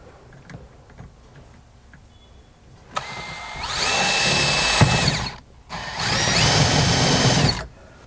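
Two loud bursts of a power drill boring into a Land Cruiser rear bracket, each whining at a steady high pitch for about two seconds, close by, after some quiet handling noises.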